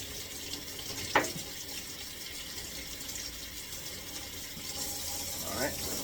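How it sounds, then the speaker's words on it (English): Fruit rinsed under a running kitchen tap, a steady hiss and splash of flowing water close by, with a couple of brief clinks or splashes as the fruit is moved under the stream. "Just give them a quick rinse under the tap before I eat them."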